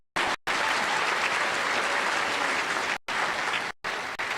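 Graduation audience at a college commencement clapping, a loud sustained wash of applause from a large crowd, broken by a couple of brief abrupt cuts.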